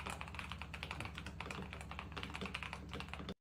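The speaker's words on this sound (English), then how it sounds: "It's the updated TechWare Phantom Plus. It's a TKO keyboard" Typing on a TechWare Phantom Plus TKO mechanical keyboard with pre-lubed switches makes a rapid, uneven run of close, crisp, thocky keystrokes that continues steadily until it stops abruptly, with no voices.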